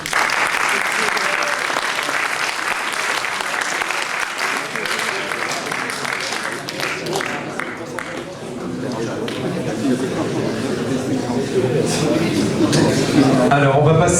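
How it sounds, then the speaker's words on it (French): Audience applause breaks out at an innovation day event held at an agricultural school in Beaune, sustained and fairly loud clapping from a crowd across the whole span, steady at first then fuller toward the end. "Vous pouvez l'applaudir."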